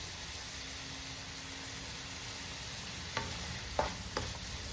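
A soft, steady sizzle of Kerala-style ivy gourd (kovakka) thoran cooking in a pan, with a few sharp spatula scrapes and knocks near the end as the vegetables are stirred.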